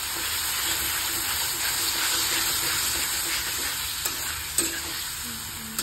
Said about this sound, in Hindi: अब इसमें हम डालेंगे थोड़ा सा पानी ताकि ये मसाले अच्छे से भून जाए।